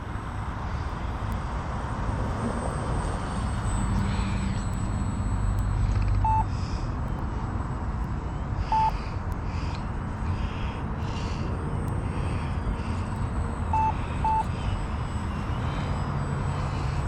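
A Turbo Timber Evolution 722mm RC airplane flies and climbs, its electric motor a steady, moderately distant drone under constant wind noise, holding the same level throughout with small rises in pitch.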